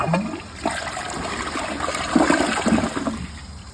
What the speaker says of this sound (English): Let's give it a flush.